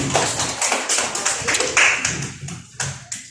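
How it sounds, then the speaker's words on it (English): A classroom of grade 9 learners claps together: a burst of quick, uneven hand claps up close that thins out into a few scattered final claps. "would you give yourselves a round of applause for that?"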